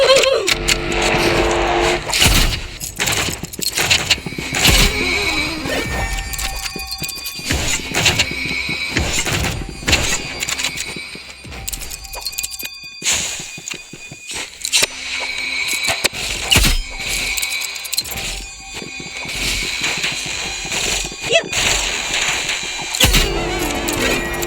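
Balisong butterfly knife sounds from the video game Rivals play in a dense, busy stream of metallic clicks, clacks and swishes that repeat steadily and loudly for the whole stretch.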